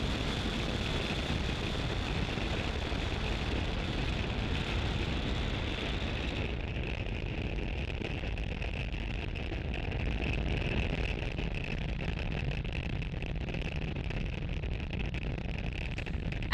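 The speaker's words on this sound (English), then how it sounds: "Falcon 9 has successfully lifted off from Space Launch Complex 40 at Cape Canaveral, Florida" A SpaceX Falcon 9 rocket lifts off from Space Launch Complex 40 at Cape Canaveral, Florida, its engines making a steady, broad, distant roar that holds evenly for the whole stretch.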